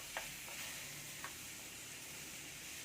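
Small pieces of plantain fry in a pan with coconut, cashews and raisins, giving a steady, even sizzle with a couple of soft stirring clicks and no talking.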